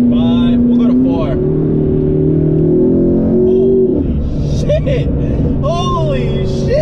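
A McLaren with twin turbos accelerates hard in fourth gear. The engine note climbs steadily, loud and close inside the cabin, then drops briefly at a shift before rising again, with excited voices talking over it.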